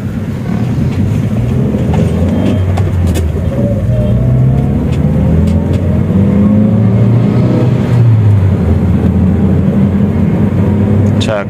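Toyota Rush engine with Eco mode switched off, revving steadily under throttle from inside the vehicle, a continuous low droning rise and fall that lasts throughout, with no talk.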